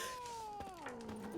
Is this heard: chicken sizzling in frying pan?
no